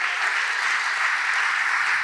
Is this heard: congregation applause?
yes